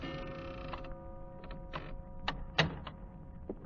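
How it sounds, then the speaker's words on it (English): An office door slowly creaking open late at night, with a few soft creaks and clicks spread over a quiet room and a faint steady tone behind them. "my office door slowly opened"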